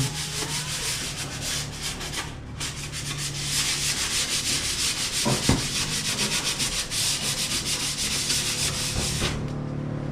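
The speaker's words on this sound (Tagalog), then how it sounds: "Pinong liha." Steady, continuous rasping of fine sandpaper rubbing back and forth on wood for a pigeon breeder cage, close and fairly loud, with a brief pause partway through.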